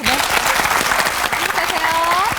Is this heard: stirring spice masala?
no